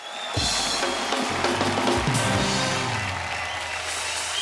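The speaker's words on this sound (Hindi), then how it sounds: "एक बार जोरदार तालियां हो जाए पूरे दिल्ली वासियों के लिए।" Studio audience applause at a comedy talk show, a full burst of clapping that starts suddenly and carries on steadily, with a little background music underneath.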